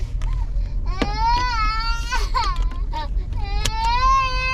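A baby cries inside a car, drawn-out wails and sobs repeating close by over a steady low engine and road rumble.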